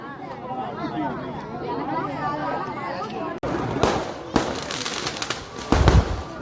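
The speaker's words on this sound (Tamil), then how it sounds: "பட்டாசு என்னமா வெடிக்குதுப்பா" Firecrackers at a temple festival, a background crackle that turns into sharp, loud bursts and rapid pops in the second half, over crowd chatter and nearby voices.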